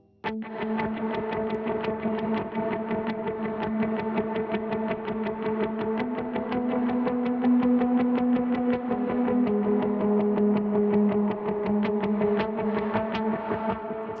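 An electric guitar picks a rapid, steady chugging line through effects, even repeated notes with a shimmering, processed tone. No voices.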